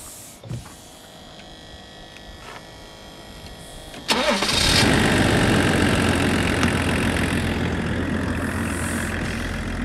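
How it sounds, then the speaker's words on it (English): Range Rover P38 diesel engine cranking and catching after a faint click and the whir of wipers, then settling into a loud, steady, close idle that runs to the end. "Listen to that, the sound of a DERV engine."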